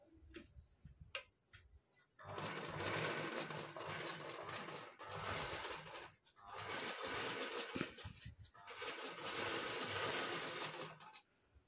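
A sewing machine stitches a blouse in quick rapid bursts, a close mechanical chatter running for a few seconds at a time with brief pauses and soft clicks between runs.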